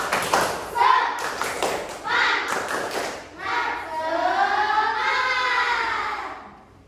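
Schoolchildren in a classroom perform a rhythmic clapping chant, tepuk semangat: bursts of group claps alternate with sung, chanted voices, building into a longer held vocal phrase before trailing off.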